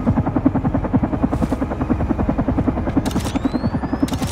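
A helicopter in the video game Carrion thumps with fast, even rotor beats over a low engine drone, loud and steady, with a few brief high whooshes layered on top.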